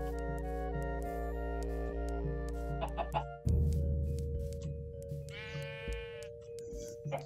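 A chicken in a blocky Minecraft-style game clucks and squawks in short bursts, with a bleat-like call among them. The calls sit near and fairly clear over a steady droning game tone.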